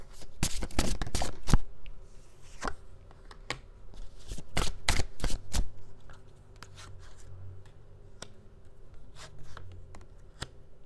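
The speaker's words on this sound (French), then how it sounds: "Je vais juste tirer quelques cartes pour voir." Tarot cards are shuffled and drawn in several quick, close riffling bursts, followed by sparser soft slaps and slides of cards on a table, with no talking.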